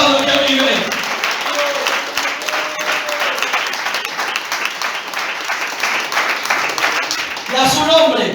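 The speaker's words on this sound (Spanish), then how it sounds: "Aplaudan que vive." A church congregation applauds steadily during a sermon, a continuous patter of many hands clapping at moderate loudness, with voices calling out over it near the end.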